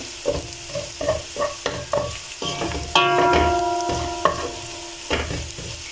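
Ingredients for a potato stew frying in a pot under a hissing sizzle, broken by a rhythm of stirring clacks and a brief ringing metallic clang midway. The sound is close and loud, with no speech.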